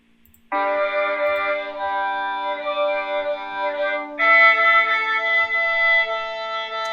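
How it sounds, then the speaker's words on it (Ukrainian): A real violin plays two sustained bowed notes, the first held for several seconds and the second higher and slightly louder, clear and close in a quiet room. "Послухаємо, як звучить справжня скрипка."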